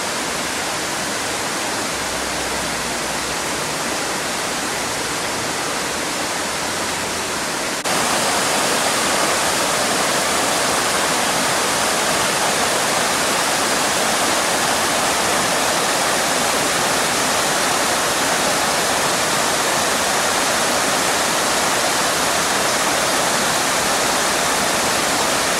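Cunningham Falls roars as a waterfall, a loud, dense broadband rush that holds steady, stepping up abruptly in volume and brightness a few seconds in as if moving closer, with no talking.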